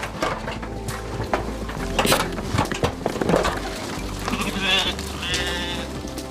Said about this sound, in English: taking care of the all-important sheep